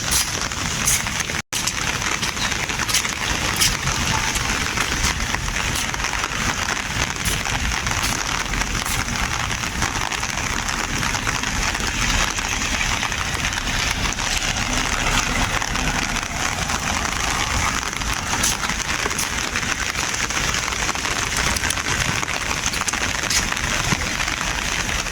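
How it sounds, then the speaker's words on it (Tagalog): Steady typhoon rain falls continuously at Laguna de Bay, a dense even patter on surfaces with no voices, one brief sharp click early on. "At hindi na po lumakas pa ang ulan"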